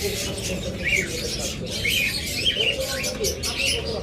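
Pet birds in a breeding cage, a pair taking turns sitting on eggs, chirp in short, scattered bright calls over a steady low background hum, fairly close.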